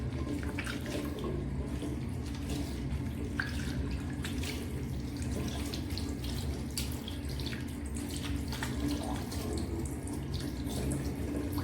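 Hands being rinsed under a running tap during a handwashing procedure, a steady close hiss and splash of water flowing into a sink with faint drips, continuous and even throughout with no talking.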